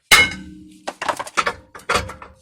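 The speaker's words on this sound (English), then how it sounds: "then you'll go ahead and hammer the rotor" Sharp metallic hammer blows strike the rear brake rotor of a 2015 Acura MDX to knock it loose, about five separate clanging hits with short ringing tails in an otherwise quiet garage.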